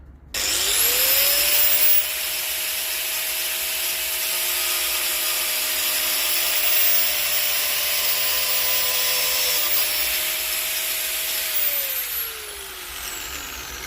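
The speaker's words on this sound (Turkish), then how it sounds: "spiral yardımıyla o sürten yerini alacağım" An angle grinder with a spiral disc grinds off a rubbing spot on a motorcycle, spinning up to a loud, steady high whine with a harsh grinding rasp, then winding down near the end.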